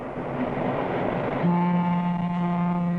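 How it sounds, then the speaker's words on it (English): A postwar Lionel toy diesel streamliner model train rumbles past with a broad noisy roar, then a sustained horn blast comes in and holds to the end. "What was that? A diesel streamliner."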